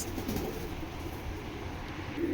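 Pigeons of foreign breeds coo softly in low bursts, partly buried under a steady broadband rumble of background noise.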